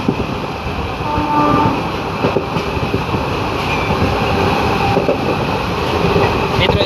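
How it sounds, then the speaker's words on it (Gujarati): A passenger train on the Khambhalia to Dwarka route rumbles steadily, heard from inside a carriage as a loud, continuous roar of wheels and rattling coaches, with faint voices in the background. "ફાઇનલી આપણે ટ્રેનમાં બેસી ગયા છીએ."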